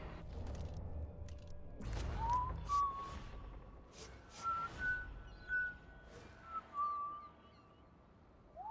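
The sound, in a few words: whistling in the video game Dishonored 2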